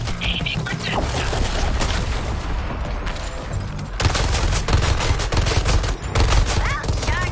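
Artillery fire in the Suicide Squad video game pounds away in dense, continuous volleys of booming shots and crackling gunfire, loud and relentless, with a sharp surge of heavier blasts midway.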